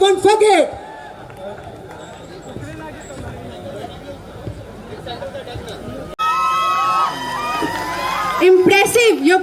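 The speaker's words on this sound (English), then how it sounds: "Let's make some noise and give them a big round of applause" An audience at a university cultural night cheers and shouts for a trio dance, crowd noise building loudly near the start and end around a quieter stretch of babble and talk.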